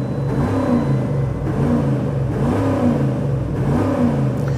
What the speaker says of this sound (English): My foot is hard down on the throttle right now.